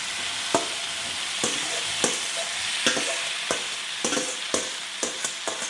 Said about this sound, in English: So now we're going to add our beef that we've marinated earlier.